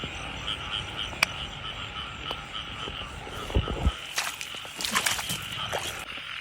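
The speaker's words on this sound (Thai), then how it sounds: "กบเมียนะครับแต่เป็นกบเมียบอยใหญ่" Frogs croak at night near a cemetery in rainy weather, a dense chorus of repeated calls under a steady insect-like hum, with occasional rustling and footsteps close by.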